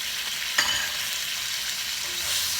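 Fresh garden tomatoes stirred into sautéing upo squash with shrimp in a hot pan, a constant loud sizzle with a sharp scrape of the utensil near the start and softer stirring after.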